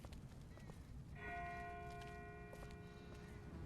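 A bell in The Walking Dead rings once from a distance, a faint sustained metallic tone that hangs and fades over low rumbling background noise.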